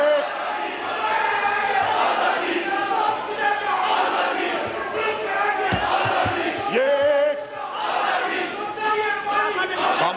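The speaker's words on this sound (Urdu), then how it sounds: "نعرے بازی مت کریں" A loud crowd of lawmakers chanting slogans together inside Pakistan's parliament during a resignation speech, a dense roar of rhythmic shouting voices that rises and falls throughout.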